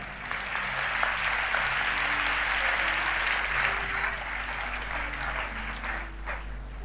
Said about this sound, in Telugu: మీరు చప్పట్లు కొట్టారు